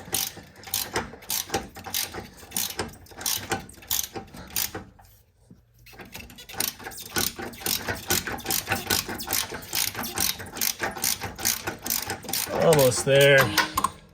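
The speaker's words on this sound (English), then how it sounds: "I need to get a new ratchet" A worn 12-year-old ratchet wrench clicks rapidly and steadily up close while loosening a bolt on a Toyota 4Runner, with a brief pause midway and a short spoken remark near the end.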